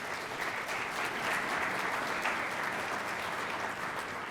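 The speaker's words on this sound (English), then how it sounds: "Let's give a round of applause for our sponsors." An audience at a Columbus Metropolitan Club economic forecast forum applauds the sponsors, an even, sustained wash of many hands clapping at a moderate distance, unbroken throughout.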